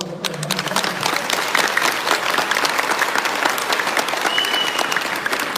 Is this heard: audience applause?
yes